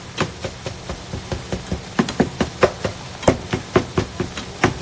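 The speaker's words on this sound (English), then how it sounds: "So just make sure you chop it up really well." A knife chops vegan meat on a cutting board into a fine crumble for wonton filling, giving a steady run of sharp, close knocks at an even rhythm with no talking.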